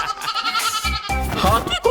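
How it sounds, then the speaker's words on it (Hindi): A frightened cartoon goat lets out two loud, wavering bleats close up, the second higher and more strained, with only a brief gap between them. "बकरी डरकर चीखने लगी।"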